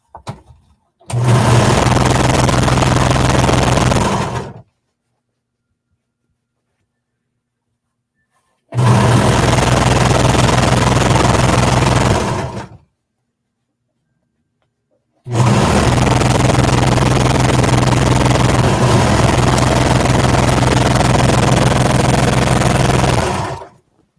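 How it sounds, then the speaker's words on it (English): Sewing machine stitching down the raw edges of a jacket liner seam, three loud steady whirring runs of a few seconds each separated by silent pauses. "we're just going to sew down these raw edges"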